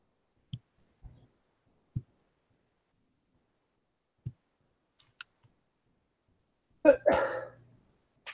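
A single sneeze from a person at a table, short and fairly faint, preceded by scattered soft clicks and taps in an otherwise quiet room.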